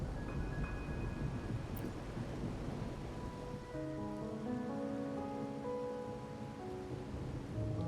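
Steady rain pours down in a stormy scene in the video game Wuthering Waves, a dense, continuous hiss of falling water with low rumbling weight beneath it, while soft tonal game music swells in partway through.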